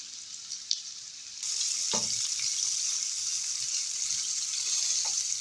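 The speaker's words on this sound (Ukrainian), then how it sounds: "І смажимо наше м'ясо на великому вогні приблизно 2-3 хвилини з обох сторін" Rabbit meat fries on high heat in a pan, a loud, steady hiss and crackle that swells as the pieces hit the oil and keeps sizzling, with a faint clatter from the pan.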